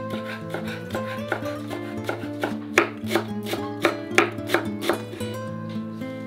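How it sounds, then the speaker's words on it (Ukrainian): A knife finely chops cilantro and parsley on a board, giving a run of quick, crisp, evenly spaced taps up close, with soft background music underneath. "Дрібно їх нарізаємо."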